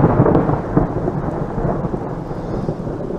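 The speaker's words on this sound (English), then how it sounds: "You will not believe the thunder and cracking that's going off up there." Thunder rumbles loud and close during a thunderstorm, a continuous deep roll with cracking bursts over the rain.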